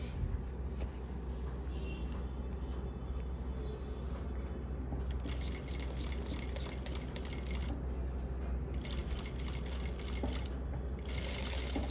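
A sewing machine stitches a pocket onto formal trousers, running in a continuous whir with rapid needle ticking that starts and stops in short bursts, close and alone.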